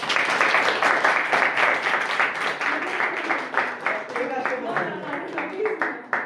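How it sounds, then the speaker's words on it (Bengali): Students clapping together to honor a selected candidate at a small academy gathering, a steady, dense patter of many hands with brief lulls, close and fairly loud, mixed with a few voices. "একটু তোমরা হাততালি দাও"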